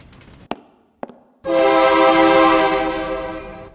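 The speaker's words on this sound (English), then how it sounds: "The train is pulling into the station." In a video game, a few sharp clanks, then a loud, sustained train horn blares and holds steady as a train pulls into a station, close and dominant until the end.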